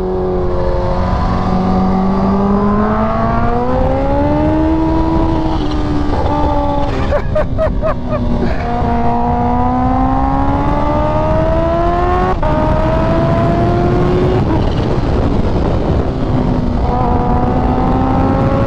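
A high-revving sport motorcycle accelerates hard, its engine pitch climbing in steady sweeps and dropping sharply at each quick gear shift, loud and close the whole time.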